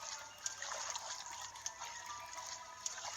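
Soft steady patter of video game rain with a faint watery hiss and a few brighter drips, continuous and mid-distance, with no voices.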